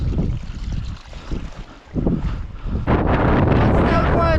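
Strong wind on a mountain walk in North Wales in extreme conditions roars across the microphone in gusts, then swells into a loud, constant buffeting in the last seconds.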